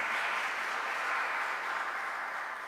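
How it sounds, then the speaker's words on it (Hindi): A church congregation at Sunday Mass applauds to congratulate a priest, a steady, even wash of many hands clapping at once, sustained throughout and heard from a moderate distance. "मैं चाहता हूं भरपूर तालियों में हम फादर जी को मुबारकबाद दें"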